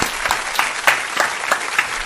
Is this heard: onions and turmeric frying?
no